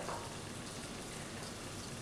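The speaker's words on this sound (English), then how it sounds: "Ooh, you can hear the sizzle already." Constant dense sizzling of fish fillets on a hot grill, close and even throughout the short stretch.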